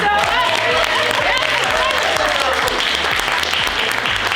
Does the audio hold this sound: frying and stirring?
no